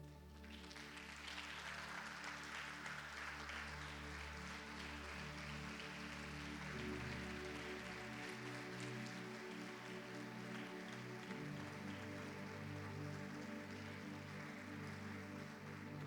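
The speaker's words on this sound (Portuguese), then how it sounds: "Dê um aplauso ao Espírito Santo." A church congregation gives a long round of applause, a soft, diffuse patter of many hands heard over a sustained musical backing, steady and fairly distant.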